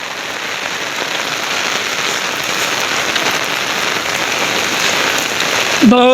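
Loud, steady downpour of heavy rain drumming on surfaces, an unbroken wash of hiss with a short chirp-like sound at the very end.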